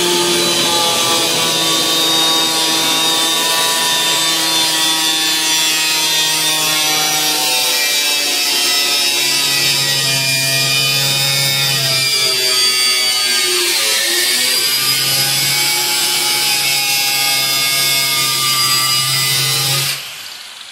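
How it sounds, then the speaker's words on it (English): An angle grinder with a cutoff wheel cuts through a car hood, a loud, continuous high-pitched metallic whine that shifts pitch as the blade bites, running steadily for about twenty seconds before stopping. "What I'm gonna use to cut this is an angle grinder with a cutoff wheel."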